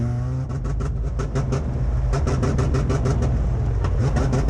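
A race car engine misfires in a steady run of rough, stuttering bursts at a speedway, during the Hattiesburg Speedway season opener race. The engine roars loud and close for the whole stretch with no talk.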